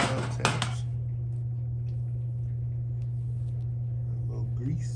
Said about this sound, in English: Give it a couple of taps.